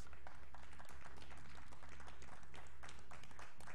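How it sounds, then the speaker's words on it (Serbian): A studio audience on a Serbian TV quiz show applauds, a dense, steady patter of many hands clapping throughout, fairly close. "Molim vas jedan veliki aplauz."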